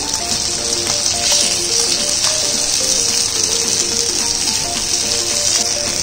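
Fish frying in hot oil in a pan, a loud, close, continuous sizzle with crackling bursts and a faint tonal background, no talking.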